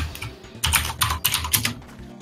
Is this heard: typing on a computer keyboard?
yes